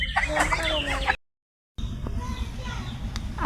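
A chicken clucks close by in a farmyard, a run of short, loud calls that stops briefly and then resumes, with a person talking over it.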